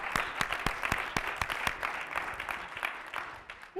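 Church congregation at a Spanish-language service claps in a sparse, uneven rhythm of distinct hand claps over a faint murmur, quiet and somewhat distant, tapering off near the end.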